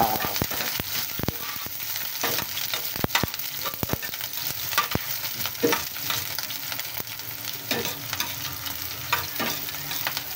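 Onions are frying in a hot pan for a Filipino coconut-milk dish, giving a continuous close sizzle broken by frequent sharp clicks and scrapes from stirring.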